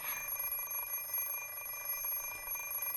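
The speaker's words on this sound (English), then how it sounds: "So why does the ringing sound like it's telling me you're going to be late?" An electronic alarm clock ringing in the visual novel game Fate Stay Night, a steady high-pitched beeping tone sustained throughout, clear and alone with no talking.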